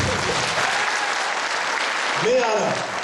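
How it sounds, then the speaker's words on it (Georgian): Dense, continuous applause fills a charity telethon studio, steady and close, with a voice cutting in briefly near the end. "ტაში."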